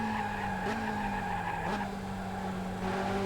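A Ferrari F355 in the F355 Challenge racing video game brakes hard with a sustained, loud tire squeal over the steady drone of its engine, the pitch shifting slightly as it slides through the corner.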